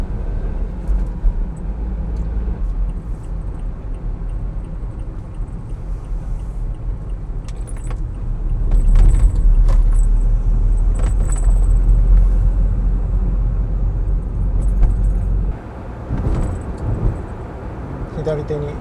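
Honda S660 cruising a lakeside road along Lake Biwa on a summer morning, with a steady engine and road drone inside the cabin that swells louder midway, while someone talks over it.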